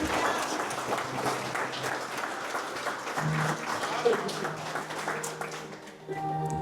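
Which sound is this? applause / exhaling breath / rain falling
applause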